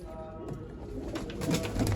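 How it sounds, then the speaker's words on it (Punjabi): Pigeons cooing softly at close range among a small flock in a pigeon enclosure, low throaty coos repeating over a steady background murmur. "ਦੋ ਕਬੂਤਰ ਨੇ ਇਧਰ ਬਾਕੀ ਸਾਰੇ ਕਬੂਤਰ ਆ"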